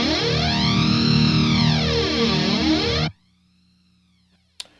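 A distorted electric guitar runs through a Line 6 HX Effects flanger set after the amplifier, its deep jet-like sweep arching up and down for about three seconds before cutting off, followed by silence and one brief click.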